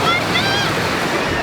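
Surf rolls in steadily at the Skegness seaside on a hot day, a constant broadband wash of breaking waves with faint wind, and a brief high voice rising over it near the start.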